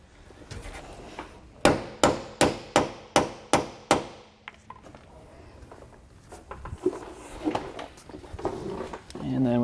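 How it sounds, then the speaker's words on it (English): Hammer strikes driving a bolt back into place on a trailer leaf-spring hanger: seven sharp, evenly spaced metallic blows in quick succession, then lighter taps and handling noise, with someone talking throughout. "you are going to have to kind of hammer it back into place because it is sticking out just a bit"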